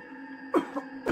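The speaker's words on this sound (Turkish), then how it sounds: "Ben de öksürük sesi duydum." A few short, throaty coughs, two close together and then another, faint and indoors over a steady background hum.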